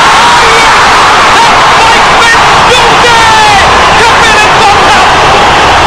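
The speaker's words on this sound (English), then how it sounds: "The oohs and ahs from the crowd." A large arena crowd at a volleyball match rises in loud, sustained oohs and aahs, a dense roar of voices with scattered whoops filling the whole stretch.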